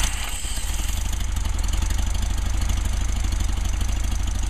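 A cold engine fires after one pump of the accelerator and settles straight into a steady, close, loud idle with an even low throbbing pulse and no talking.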